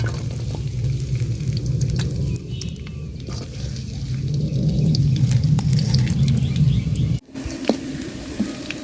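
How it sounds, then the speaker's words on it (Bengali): Chopped onion, garlic and chili sizzle steadily in hot oil, a close, continuous crackling fry with occasional stirring scrapes and faint bird chirps in the background. "তো তেল দিয়ে দিলাম ভাজি করার জন্য। পেঁয়াজ কুচি, রসুন কুচি আর মরিচ কুচি দিয়ে দিলাম।"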